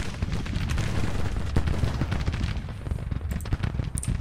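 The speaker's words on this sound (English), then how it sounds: "Boy, their artillery's messing me up." Artillery fire in a Civil War strategy video game booms repeatedly in rapid, rumbling bursts, a dense barrage of cannon blasts and gunfire without any speech.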